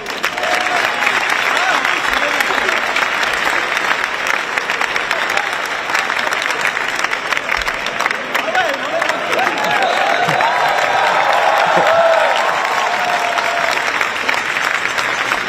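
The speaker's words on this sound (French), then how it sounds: "B-Boy Thomas, on l'applaudit bien fort." Loud, sustained crowd applause and cheering for a breakdancer at a Paris Olympic Day event, a dense wash of clapping with voices mixed in throughout.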